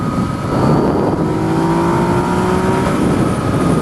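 A Yamaha MT-09 (FZ-09) motorcycle accelerates hard in 4th gear, its engine note rising steadily as a loud, close, continuous roar with wind rush, and no talking.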